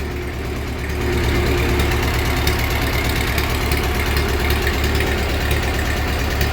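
An old tractor that has sat out in the snow runs at a steady idle, a loud, close, rough low-pitched engine chug with a rapid knocking pulse throughout, rising slightly in level after the first second.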